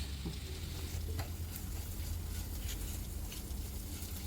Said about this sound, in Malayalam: എല്ലാം ഇങ്ങനെ ഒന്ന് ഇളക്കണം.